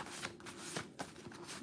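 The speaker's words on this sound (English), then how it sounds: "I shuffled those cards." Tarot cards shuffled by hand in a quiet room, a steady soft riffling with a few sharper flicks over less than two seconds, close and faint with no talking.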